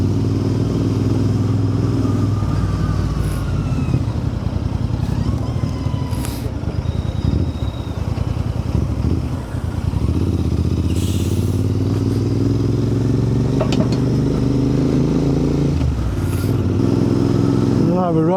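Royal Enfield Interceptor 650 motorcycle ridden on a moorland road near Holmfirth, its engine droning steadily and shifting in pitch through gear changes, with wind rush and a rider talking over it throughout.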